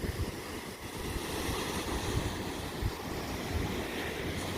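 Waves washing ashore and gusting wind on the Lake Erie shore at Presque Isle on a cold winter day, heard from about 25 feet back: a steady, fairly loud broadband roar with low rumbling microphone wind buffets and no voices.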